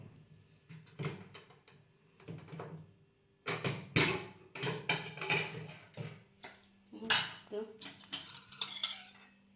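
Boiled vegetables are lifted out of a cooled pressure cooker with metal clinks, knocks and scraping of utensils against the pot, in irregular bursts with short pauses, close and moderately quiet.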